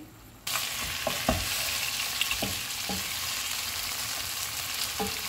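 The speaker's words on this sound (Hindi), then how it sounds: "चूल्हे को मीडियम कर देते हैं और चिकन का पानी ड्राई होने तक इसको पकाएंगे।" Chicken for a BBQ chicken biryani fries in a pot over medium heat, a steady close sizzle broken by several sharp scrapes and clinks of a stirring spoon.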